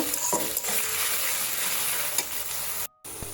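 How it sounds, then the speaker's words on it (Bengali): Sliced onion with four white cardamom pods sizzles in hot oil in a pan, frying toward light brown, a steady close-up crackle broken by scraping stirs and a brief pause. "পেঁয়াজটা দিয়েছি। এখন এটা হালকা ব্রাউন করে ভেজে নেব"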